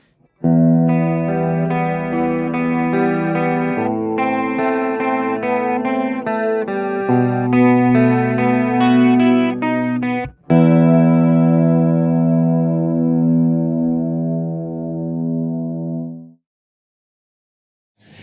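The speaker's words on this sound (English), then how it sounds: "So let's check out the electric clean tone." A sustained electric guitar chord sequence with a shimmering, effected clean tone from a Line 6 Helix hard-rock preset, ringing out loudly before one final chord fades into silence.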